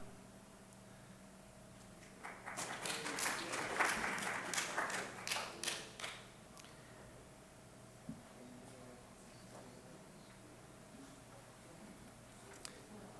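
At a city council meeting, the audience breaks into a short burst of scattered clapping that rises, peaks and fades within a few seconds, sounding somewhat distant in a large room before quiet returns.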